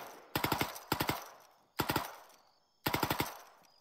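Automatic gunfire in a military combat game, loud close bursts of three or four shots each, separated by brief pauses, with no talking.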